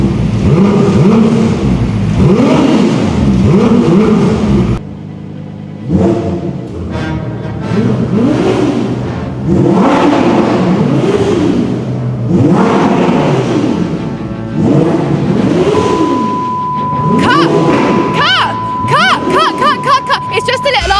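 A Ferrari 296 GTB supercar's engine revs repeatedly in loud, rising-and-falling bursts with no soft limiter, short pauses between pulls, and voices murmuring underneath; a steady tone and rapid clicks enter near the end.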